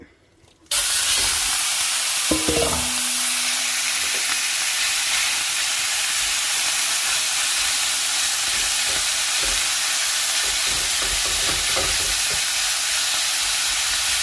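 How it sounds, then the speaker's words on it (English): Fajita meat sizzling and frying in a preheated pan with cooking oil over medium heat, a steady dense hiss that starts abruptly and runs throughout, with a few faint clinks and stirring sounds. "So my pan is preheated, and I'm going to add some cooking oil here. I'm going to go with the meat."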